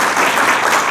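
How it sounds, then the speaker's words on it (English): Audience at a workplace health awards ceremony claps in a dense, steady round of applause, loud and continuous throughout the short moment. "I want everybody here just to give yourself a round of applause right now"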